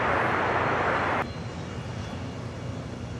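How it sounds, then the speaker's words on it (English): A China Southern Cargo Boeing 777 freighter at Los Angeles International Airport makes a steady broadband jet roar that abruptly drops to a quieter rumble partway through, heard at a distance with no voices. "up next is the China Southern Cargo 777 heading to Guangzhou"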